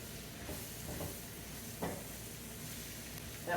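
Flour stirred into sizzling onions in a soup pot on the stove, a steady frying hiss with soft scraping stirs at intervals.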